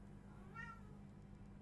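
A single faint cat meow from a kitty in the Total War Warhammer 2 strategy game, brief and quiet over steady low background hum.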